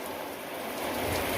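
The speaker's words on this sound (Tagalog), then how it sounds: "Yan, maulan. Kulimlim yung langit" Rain falls steadily under an overcast sky, a dense even hiss of drops with no voices, close and moderately loud throughout.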